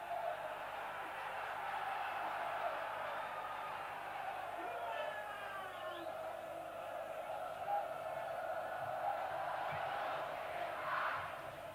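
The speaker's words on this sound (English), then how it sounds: "Generous applause for an intelligent free kick." A football crowd at a Sunderland versus Gillingham play-off semi-final applauds a free kick, a steady broad wash of clapping and murmuring heard from a distance throughout.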